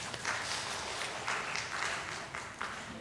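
Soft, steady audience applause at a talk, a dense patter of many hands clapping at once that stays faint and distant throughout.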